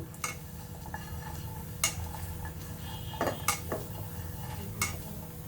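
Small fish are mixed by hand with ground chili, ginger paste and garlic paste in a kitchen: a faint, quiet stirring with scattered light clinks of utensils against a dish.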